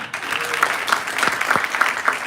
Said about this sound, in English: Ladies and another applause for Atif Khan.